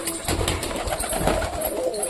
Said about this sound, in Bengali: আমাদের এই পায়রাটা পুরো পারফেক্ট পুরো সুন্দর জোড়া